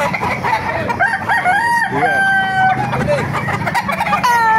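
Several roosters, mostly red, crow loudly at a poultry market in Bocaue, overlapping one another, while chickens cluck nearby in a busy chorus.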